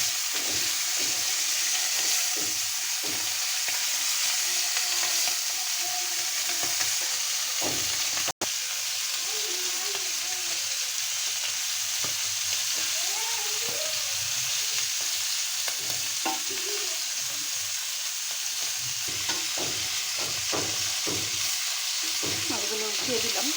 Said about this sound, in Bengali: অল্প তেল দিয়ে মাছগুলো কিন্তু আমি এখানে ভাজছি